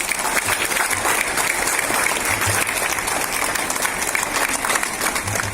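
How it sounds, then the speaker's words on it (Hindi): Sustained applause from a crowd at a school morning assembly, steady and dense clapping throughout with no break. "सभी के पेरेंट्स के लिए और टीचर्स के लिए एक बार जोरदार तालियां बजाएंगे।"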